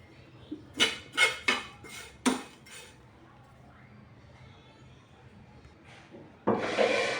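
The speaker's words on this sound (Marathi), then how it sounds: "एकदम बारीक गॅसवर भाजायचे आपल्याला पोहे पोहे आपल्याला थोडेच भाजायचे" Poha being dry-roasted in a pan on a low flame, with a quick series of dry scraping stirs near the start, a quiet stretch, then a louder steady rustling stir near the end, with no talking.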